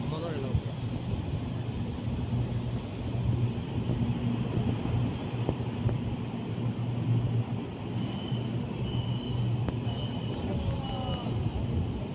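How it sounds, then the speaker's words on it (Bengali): A metro train in Kuala Lumpur rumbles steadily along the tracks with a constant low drone and occasional high squeals, with faint voices in the carriage. "আমার ট্রেন ছুটি চলছে হাংতুয়ার দিকে"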